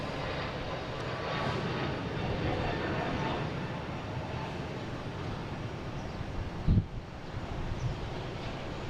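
A Philippine Airlines jet landing at Boston Logan Airport, heard as a broad, steady engine roar with wind buffeting the microphone and a brief thump partway through.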